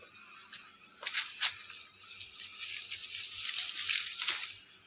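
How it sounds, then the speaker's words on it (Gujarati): Water splashes and gushes from a pipe at the back of a house, running unevenly with intermittent spattering bursts at moderate volume. "તો ગાઈઝ અત્યારે આપણે આ પાછળના ભાગમાં પાણી ચાલુ કરી દીધું છે."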